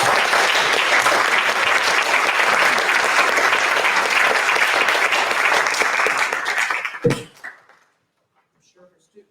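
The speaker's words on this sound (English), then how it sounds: "So would you please give her a round of applause?" A university conference audience gives a round of applause, thick sustained clapping filling the room for several seconds, then stopping abruptly with a thump and a couple of small knocks in the quiet that follows.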